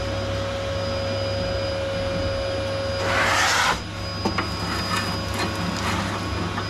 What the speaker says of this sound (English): I think my vacuum is running out of suck.